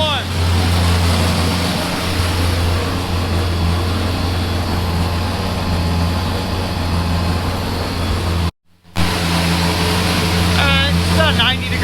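Corvette engine with a dry sump oil system idling to warm up, a steady loud low rumble that carries on with one brief dropout, while a person talks over it.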